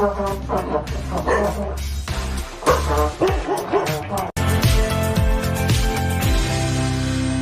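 Dogs bark, yip and whimper in loud, repeated bursts during a performance, close and excited, mixed with a sustained tonal music-like backdrop and a brief cut partway through.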